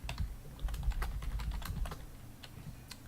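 Rapid, steady clatter of a computer keyboard as C++ code is typed, many close, crisp keystrokes running continuously with no talking over them.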